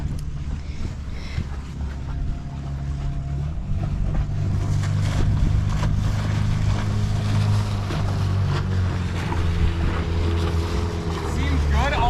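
Sailboat engine droning steadily during a test run on the water, a low throbbing hum that shifts pitch partway through, with wind and water wash around it and people talking faintly.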